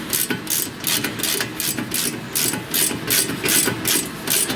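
A ratchet wrench loosens the 14mm brake caliper frame bolt on a 1994 Mazda Miata's original front brakes, close up in a run of rhythmic clicking bursts with no talking.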